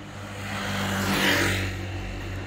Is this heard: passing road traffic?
yes